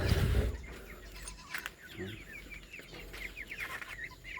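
Lavender pure Brahma chicks about a month old cluck and peep in short bursts, fairly faint, with a brief louder thump at the start.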